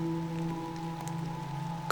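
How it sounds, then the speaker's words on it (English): Steady rain falling on a surface, a soft continuous patter beneath a low constant hum, ending in a brief louder tap. "surrounded by this beautiful sound of falling rain"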